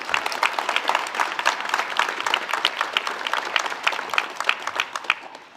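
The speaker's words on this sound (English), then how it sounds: "Let's give them a big round of applause." Audience applause for U.S. Marines at a community gathering, a crowd clapping steadily at moderate volume with distinct individual claps audible, fading slightly at the end.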